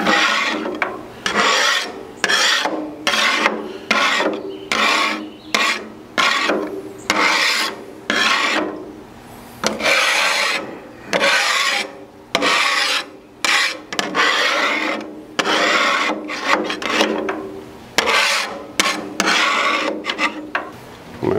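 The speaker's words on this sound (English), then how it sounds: "Let's see if I can scrape some of it off here." Steady rhythmic scraping strokes of a metal scraper rasping lint off the flat steel surface of a Halo 4B outdoor griddle, loud and close, repeated in even back-and-forth passes with no talk.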